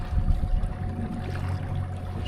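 Small rowboat moving across a lake while pike fishing, a low steady motor-like drone with a faint tonal hum and soft water lapping and trickling along the hull, continuous and fairly close.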